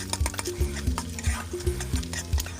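Egg stir-fried in a pan for a Thai fried dish, with a quiet sizzle under rhythmic scrapes and clicks of a spatula against the pan, about two strokes per second.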